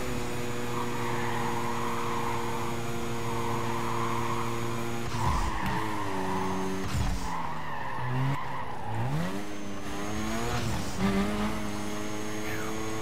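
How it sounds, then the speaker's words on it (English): Racing car in Need for Speed: Carbon flat out at its 151 mph top speed, a loud steady engine drone with sliding pitch shifts and tyre skids as it takes turns. "Car's maxed out here at 151 miles an hour"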